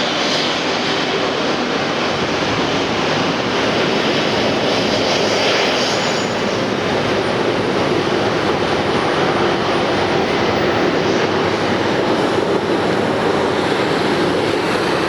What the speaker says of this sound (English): Here's a plane I have not seen before.